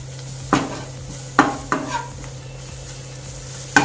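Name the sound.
stirring and roasting gram flour (besan) in a pan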